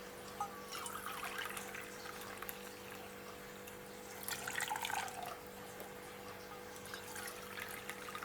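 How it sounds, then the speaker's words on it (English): Boiling water pours steadily into a container for making soap nut washing liquid, a soft continuous trickling and splashing over a low background hum. "And we add 2 cups of boiling water."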